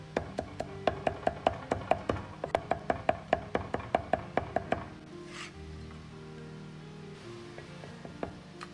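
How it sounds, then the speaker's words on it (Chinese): Two cloves of garlic, already smashed, are minced into paste with a kitchen knife on a board. About twenty quick, even, close chops come in a steady run and then stop, leaving quieter kitchen clatter. "先拍破，然后再剁成蒜泥"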